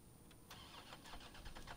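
An orange car's engine cranks and starts in the Resident Evil 3 Remake video game, a quiet, brief turnover catching into a low rumbling idle with a few revving bursts.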